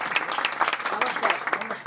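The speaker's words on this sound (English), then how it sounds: "Give a round of applause." Audience applause at a magic show on a cruise ship, a dense round of clapping lasting about two seconds, with a voice talking over it.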